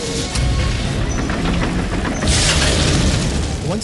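A World War II tank gun fires at an enemy tank, delivering a deep, heavy boom with a second blast partway through and a rumbling, noisy wash of battle sound around it.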